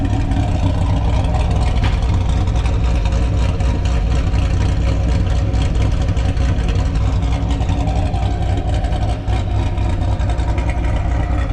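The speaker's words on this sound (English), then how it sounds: "Of course, it is a 2017 Krypton Green 2SS. Texas speed treatment." A 2017 Chevrolet Camaro 2SS V8 with ported heads, long tube headers and a VVT3 cam runs steadily, a loud, deep, continuous engine rumble with a lumpy idle-like texture, no talk.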